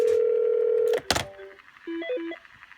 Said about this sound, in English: You see incoming call from upstairs desk 1.